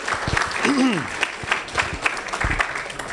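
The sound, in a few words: applause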